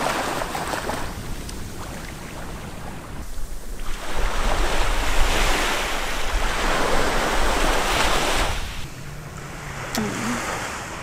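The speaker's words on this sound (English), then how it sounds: "now standing right here by the ocean" Ocean waves break and wash steadily onto a shore in Japan, a loud continuous roar with swelling surges and some wind buffeting the microphone.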